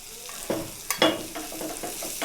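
Butter sizzles in a pan for a Mumbai-style pav bhaji tempering, a short burst of hissing frying with a few sharp spattering pops and stirring scrapes.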